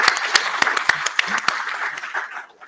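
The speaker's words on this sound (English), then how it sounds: "let's break the ice and make everyone feel welcome with a round of applause" An audience claps steadily, a dense patter of many hands with sharp individual claps, fading slightly toward the end.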